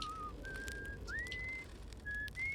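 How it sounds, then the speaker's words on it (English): A character in the game Outer Wilds whistles a few short rising and held notes over a steady low ambient hum, clear and fairly close. "Whistling."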